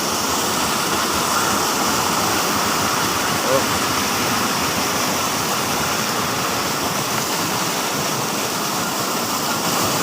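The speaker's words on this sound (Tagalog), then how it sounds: "tubig gigikan sa bukid" Steady rushing water of a mountain stream pours continuously, broad and loud, running over rocks, with no pauses throughout.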